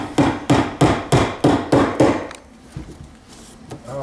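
A hammer drives wire staples into a wooden 2x4 stud: six loud, close, evenly spaced strikes in quick succession, then a few fainter taps and handling noises.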